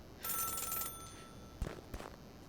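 In the video game Celeste, a telephone gives a short, bright electronic ring burst lasting under a second, followed by a couple of soft clicks, quiet and alone.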